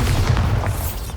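A deep booming blast from the Bombarda spell in the Hogwarts Legacy video game, a loud, dense low rumble that fills the whole moment with no talking.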